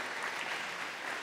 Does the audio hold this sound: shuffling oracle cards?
no